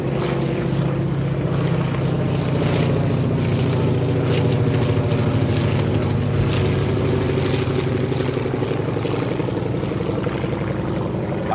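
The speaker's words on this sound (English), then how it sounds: "Just listen to that Wright J5 go by now." A Spirit of St. Louis replica monoplane with a Wright J5 radial engine passes by at an aerodrome, its propeller engine droning loud and steady throughout with a rough, throbbing texture.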